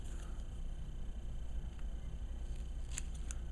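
Scissors cut off a piece of embroidery thread, with a couple of quick, faint snips near the end over a low, steady background hum.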